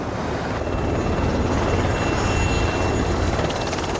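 Military helicopter on a training flight over Panmunjeom in the Joint Security Area, its loud, steady rotor and engine roar filling the air continuously with no talk.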